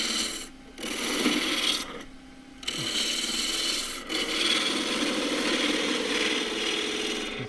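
A woodturning lathe spins a centre-work piece with grain parallel to the axis while a tool rounds over the end of a tenon, giving close scraping, rasping cuts in bursts broken by short pauses.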